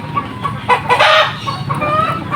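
Chickens in a village cluck loudly and close by, a run of repeated clucks and short squawks with a brief louder burst partway through and no voices.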